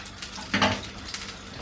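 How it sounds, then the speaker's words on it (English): A brief burst of sizzling as potatoes drop into hot oil for potato fondants, followed by a steady low crackle and faint clinks. "That's the sound you're looking for. Nice sizzling sound."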